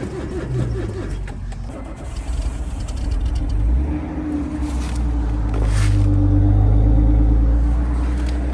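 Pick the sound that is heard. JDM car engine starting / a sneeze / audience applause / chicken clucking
JDM car engine starting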